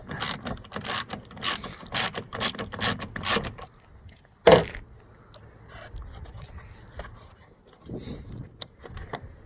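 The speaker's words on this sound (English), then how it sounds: "so just unscrew those two things, those two screws holding the bumper" Screws holding the rear bumper cover of a Ford Fusion are worked loose by hand, a run of close rhythmic ratcheting rasps, then a sharp knock and quieter scattered scraping and tool handling, with no talking.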